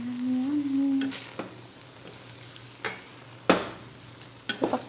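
Cabbage and sotanghon glass noodles frying in a pan for chicken guisado, a soft continuous sizzle with occasional sharp scrapes and clatters of stirring, close up and without talk.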